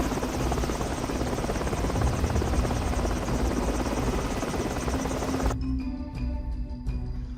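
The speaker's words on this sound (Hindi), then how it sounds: "हेलीकॉप्टर में बैठ वहां से रफू चक्कर हो गए" Loud, steady helicopter rotor noise dominates, then drops off abruptly near the end, leaving faint clicks and hum.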